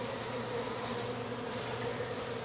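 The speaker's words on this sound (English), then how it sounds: "On every screen, there's bees trying to get in" Honeybees buzzing at a cut-out removal in Haines City, Florida, a dense steady hum of many bees close by, continuous and unbroken, with no talking.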